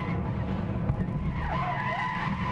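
Car tyres skid and squeal during a race in Gran Turismo 6, a steady, wavering screech held for a couple of seconds over the engine's drone, loud and continuous without pause.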